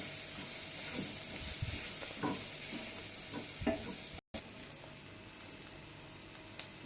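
Street-style egg bhurji fries in a pan with chopped coriander, giving a continuous close sizzle broken by several scraping stirs, then easing to a softer hiss with no talking.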